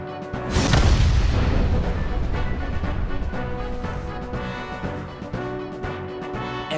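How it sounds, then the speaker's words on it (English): A video game explosion from AI: The Somnium Files nirvanA Initiative, with explosives detonating inside a corpse. A loud booming blast hits early, then a long rumbling decay under tense background music. "Sometime later, the burning fuse inside the body reaches the explosives."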